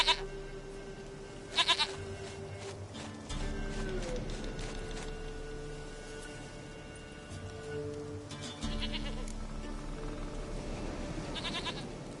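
A goat bleating in The Witcher 3 video game: two short, shaky bleats near the start and another toward the end, heard over quiet in-game background music.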